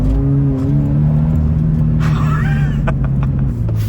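Toyota GT86 engine pulling hard in first gear, a steady loud rising drone with strong low harmonics, close and continuous, with a brief burst of tyre or wind noise midway.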